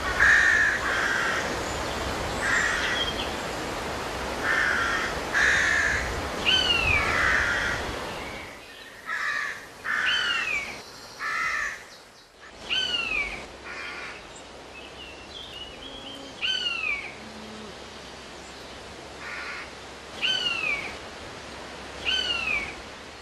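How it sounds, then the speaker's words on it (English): Buzzard parents in Cornwall give repeated high, mewing calls as they approach the nest, each drawn-out cry spaced a few seconds apart, fairly clear against quiet outdoor ambience. "are usually pre-warned of its arrival by the ever closer call of the parents"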